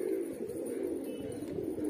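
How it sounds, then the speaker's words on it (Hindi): A Banarasi pigeon, grey-feathered, cooing steadily up close in a loft among other pigeons, a low continuous throaty coo throughout with no talk. "ये देखिए ये बनारसी कबूतर डला है"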